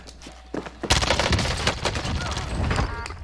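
Rapid automatic gunfire erupts in the video game Warzone, dense bursts of close, loud shots following a brief quiet start, with a voice speaking alongside.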